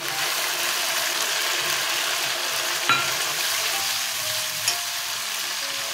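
A steady, dense sizzle of spices and tomato paste frying in a pan, with turmeric, dried chili, cumin and coriander powders mixed in. Two faint scraping clicks sound partway through, and no one speaks.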